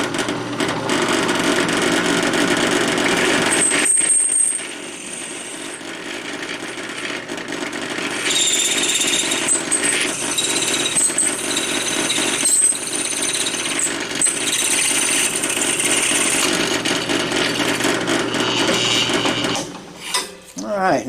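A drill bores 3/16 and 1/4 inch holes through knife handles for a push stick and lanyard liner. A loud, steady mechanical whine runs in long passes, with brief drops where the bit stops or comes free.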